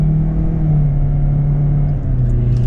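A loud 2026 Kia Seltos S AWD engine drones close by at a steady pitch, its tone shifting slightly as the car pulls away from a stop; no one speaks.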